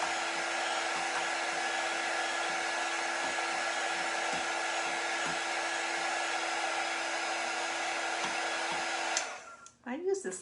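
A heat tool blows with a steady, loud whooshing hum, warming a layer of wax spread over chalk paint, running continuously before cutting off near the end.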